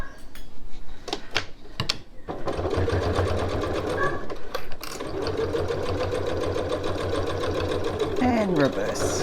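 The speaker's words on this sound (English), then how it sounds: "needle down, reverse to lock stitch" A sewing machine stitches a reversible tote bag, locking the seams by reversing over intersecting seams. Close, steady mechanical whirring runs almost continuously after brief stop-start bursts, and a voice speaks over it.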